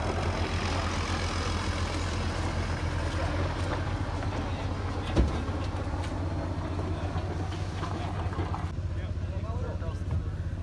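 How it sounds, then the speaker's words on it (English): A vehicle's engine rumbles steadily as it arrives to pick up a cut Christmas tree at a choose-and-cut farm in the North Carolina mountains, a low continuous drone with a brief knock midway and voices in the background. "I thought this was an interesting vehicle to pick up a Christmas tree with."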